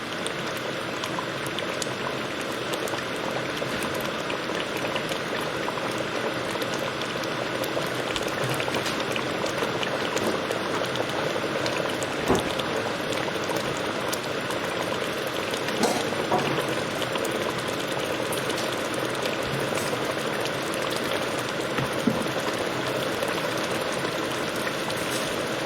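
Chicken karachi curry on the bone boils hard in a pan on high heat, with onions and tomatoes, giving a steady, close, dense bubbling and sizzling that lasts throughout without talk.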